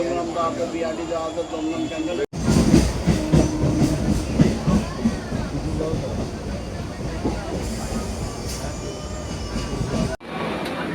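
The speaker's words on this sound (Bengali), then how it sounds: "প্রায় অনেক দিন পর দূরপাল্লা ট্রেনে চেপে বেড়াতে যাচ্ছি" A long-distance train runs from Sealdah to Rampurhat, its carriage rumbling with steady clatter and occasional squeals from the wheels, while voices talk over the ride.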